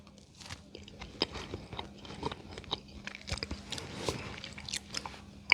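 Someone bites into and chews soft, moist high-protein chickpea bread close to the mic, with irregular wet chewing and small crunches and smacks over a few seconds.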